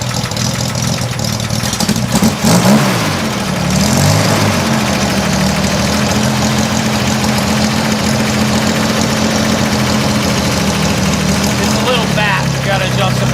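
Engine of a 1968 Mustang with brand-new carburetors idling steadily and loud, with a brief throttle blip early on, then settling into a constant low drone; voices talk over it.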